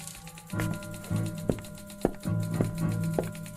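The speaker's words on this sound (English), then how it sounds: "But if you're not here, then who's typing?" A typewriter clatters in uneven bursts of keystrokes, with several sharp carriage-return or bell-like clacks punctuating the mechanical typing, close and clear with no talking.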